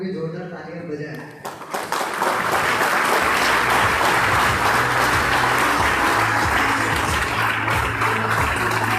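An audience bursts into sustained applause after about a second of someone speaking, the clapping dense and steady through to the end.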